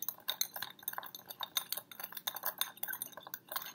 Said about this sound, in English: We're gonna use a plastic knife and we're gonna stir these just for about 10 to 15 seconds.